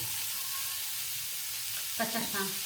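Coconut masala for a Malvani crab curry roasts in a pan with a steady, close sizzle. A voice briefly speaks over it near the end.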